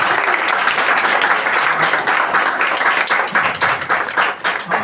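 A comedy club crowd gives loud, dense applause for the next comedian, steady clapping with no gaps that thins slightly toward the end.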